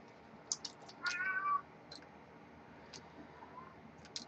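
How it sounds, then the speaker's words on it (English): A cat meowing nearby, one clear drawn-out meow among scattered small clicks and ticks during a LEGO build. "here comes the cat again"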